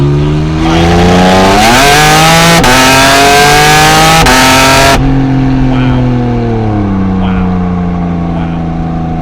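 A 2023 Porsche Cayman GT4 RS Weissach engine screams through a loud, rising high-rev acceleration with sharp gear-change breaks, then eases into a falling, quieter engine tone close by.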